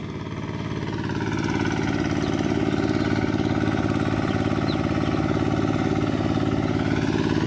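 A small single-cylinder walk-behind tractor engine, ride-on type, chugs steadily at idle, its even rhythmic putter rising slightly at the start, close by and loud.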